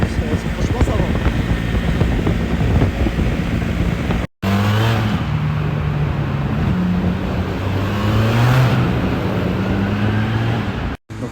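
BMW R 1300 GS Adventure motorcycle cruising in sixth gear at 3000 rpm, a loud, steady engine hum mixed with wind rush, briefly cut twice, while a rider talks over it in French.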